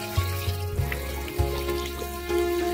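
Tap water runs steadily while a lotus plant tub is cleaned, a continuous close splashing wash with a low hum and a few soft knocks underneath, no voices.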